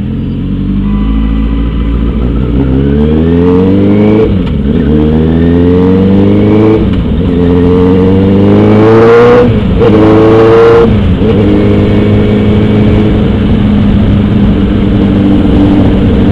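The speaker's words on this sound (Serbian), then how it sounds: "idemo da se provozamo malo kroz grad i da slušamo kako se čuje novi auspuh" Car fitted with a new aftermarket race exhaust driving through a city, loud close engine note rising and falling through several rev-ups and gear changes, deep rumbling burble dominating throughout.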